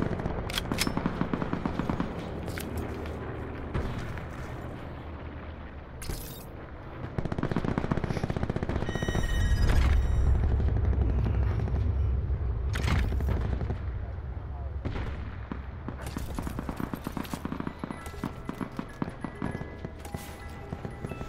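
Gunfire from a guard tower in a video game: bursts of rapid machine-gun shots and scattered single cracks under game sounds, with a heavier stretch of fire midway, moderately loud.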